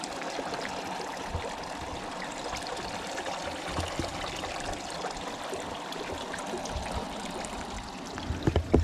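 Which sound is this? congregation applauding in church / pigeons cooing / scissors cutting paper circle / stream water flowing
stream water flowing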